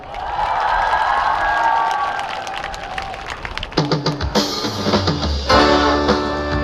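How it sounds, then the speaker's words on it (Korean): A concert audience begins clapping partway through, the applause building into steady clapping that layers over music as a song starts. "여러분 박수 부탁드리겠습니다"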